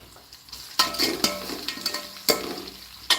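Onions, green chili and curry leaves frying in a home kitchen pan for egg fried rice, giving a steady sizzle broken by several sharp clinks and scrapes of a spoon stirring against the pan, close and moderately loud.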